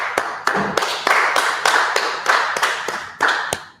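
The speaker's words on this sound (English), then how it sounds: "All right, let's clap it up" A group claps in unison at a law class gathering, about eight sharp, loud synchronized claps in a steady rhythm, each one a crisp percussive burst close to the listener.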